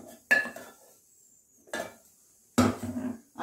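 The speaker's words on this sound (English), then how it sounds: "So now let us add the onions" Onions go into a pan while cooking bisibelebath: three separate metallic clanks and scrapes of utensil on pan, close and sharp, with quiet gaps between them.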